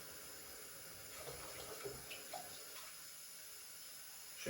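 Water runs steadily from a kitchen tap, presumably hot water for bread dough, a faint continuous splashing hiss that stays low and even throughout.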